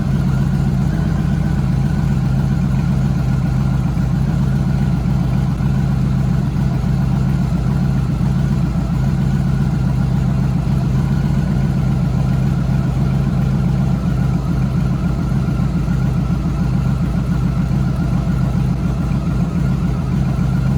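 A Honda Valkyrie motorcycle engine, running again after sitting for ten years, idles at about 900 RPM with a steady, close, low throbbing drone that holds even throughout.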